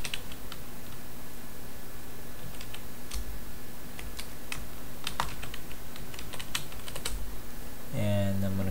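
Rapid keyboard typing as a password is entered while setting up an administrative user for an Azure virtual machine, a steady run of crisp clicks over a faint hum, ending in a brief low tone.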